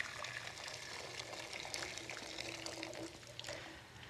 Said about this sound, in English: We've got boiling water straight in here.